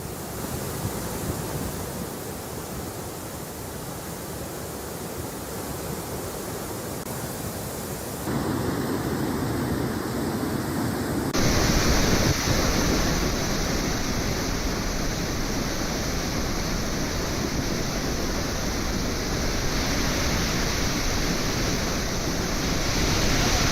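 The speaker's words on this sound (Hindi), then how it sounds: "निर्मल की ये तस्वीरें हैं जहां पर डैम ओवरफ्लो हो गया है" Floodwater rushes over an overflowing dam in Nirmal, a loud continuous roaring wash that thickens partway through, with wind buffeting the microphone and no voices.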